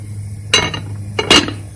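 A metal lid set onto a pot of grasscutter light soup cooking village style, making two bright, close clanks about a second apart over a low background hum.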